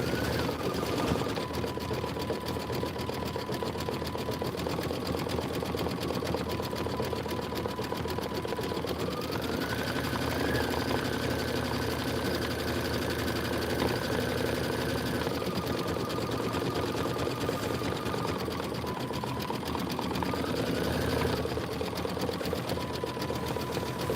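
An embroidery machine stitches out a signpost design, a steady, even mechanical whir with shifting pitch as the stitching changes, running alone at moderate volume.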